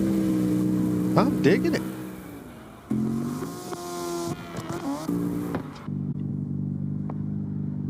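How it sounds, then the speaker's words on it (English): An old Mercedes car in a drifting video game, its engine revving up and down with tire squeal, followed by a steady engine drone, while a person talks over it. "rocking the old Mercedes"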